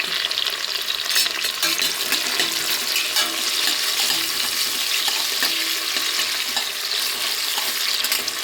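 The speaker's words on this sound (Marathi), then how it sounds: "त्यामध्ये आपण कापून घेतलेले टोमॅटो टाकू आणि थोडा कढीपत्ता टाकू." Chopped tomatoes and curry leaves frying in a pan over browned onions give a loud, steady hiss and crackle of sizzling oil that runs unbroken throughout, with no talking.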